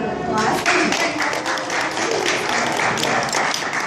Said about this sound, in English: let's give Kelvin a round of applause